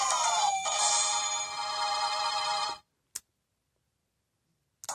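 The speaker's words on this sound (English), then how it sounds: "phone just went off" A phone ringtone goes off during a Mario Kart DS session, a bright tonal melody ringing for a few seconds before stopping abruptly, followed by brief faint clicks in near silence.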